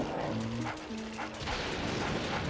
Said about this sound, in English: For the love of dirt, make that yappy dog be quiet!